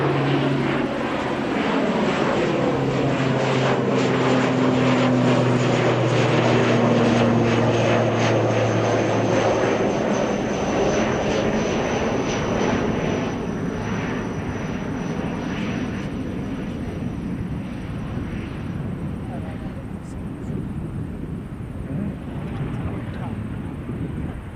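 An Airbus A321 airliner passes overhead during outdoor plane spotting, a broad rumbling engine roar with a rising tonal whine that peaks then slowly fades, with wind noise throughout.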